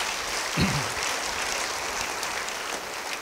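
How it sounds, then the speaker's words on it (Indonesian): Church congregation applauding during a sermon, a steady wash of clapping from a large crowd in a reverberant hall, continuous and fairly even throughout with no talk over it. "Beri tepuk tangan bagi Tuhan."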